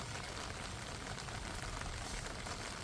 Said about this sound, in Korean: 비가 오니까 나무들이 너무 싱그럽고